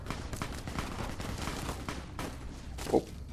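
Rapid bursts of gunfire in the video game Fallout: New Vegas crackle repeatedly at moderate distance, with a sharper shot near the end and no talking.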